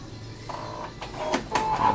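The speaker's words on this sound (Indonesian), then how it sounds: "Maka printer akan bekerja ya." A Brother DCP-1616NW printer runs a copy job, whirring and clicking nearby with a rising motor hum, short mechanical knocks and a high feed tone as the paper moves through.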